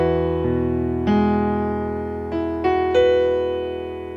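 Gospel piano playing sustained major chords with the third swapped for a second, several chord changes struck cleanly and left ringing, close and alone without voices.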